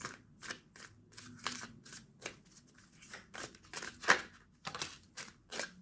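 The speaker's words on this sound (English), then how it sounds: "Two more shuffles." Tarot cards shuffled by hand in a steady run of crisp riffling and flicking bursts, close and fairly quiet, with no talking over them.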